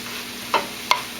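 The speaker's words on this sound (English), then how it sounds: "Mixing in the onions." Onions sautéing over high heat in a pan with rosemary, stirred three times in short scraping bursts over a low, steady sizzle.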